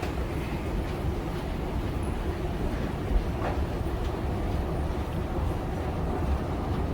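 A metro or subway train in motion, giving a steady heavy rumble with faint rattles and one brief click, close and continuous, with no voices.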